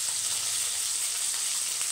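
Drumsticks sautéing in a pan, a faint continuous sizzle with no distinct stirring, steady and quiet throughout.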